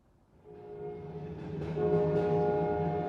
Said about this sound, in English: This is the train goes by at the beginning.